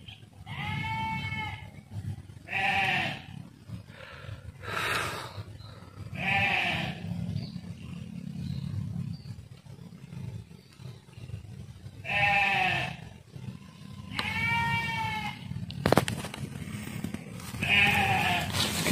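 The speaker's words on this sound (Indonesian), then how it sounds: "Ini di tengah-tengah hutan, tapi ada suara seperti suara kambing ya." Several goats bleat in a forest with no houses nearby, repeated wavering calls spaced a few seconds apart at moderate distance over a low steady background rumble.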